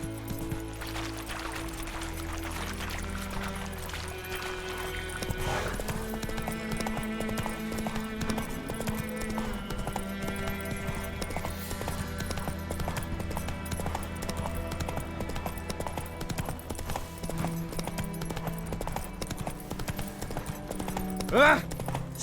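Roach, the horse in The Witcher 3: Wild Hunt, gallops with steady clip-clop hoofbeats over a layered game soundtrack and ambience, with a brief neigh near the end and a voice speaking.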